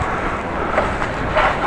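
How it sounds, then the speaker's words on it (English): Wind buffeting a microphone during a bike ride, a continuous low rumbling roar with gusty swells, no talking. "Well, it's windy today."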